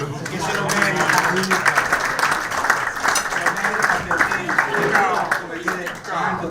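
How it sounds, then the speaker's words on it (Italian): Diners applauding at a Rotary Club dinner in Venice, sustained lively clapping from the room that runs throughout, with voices mixed in beneath it. "Fate un applauso, che se lo merita"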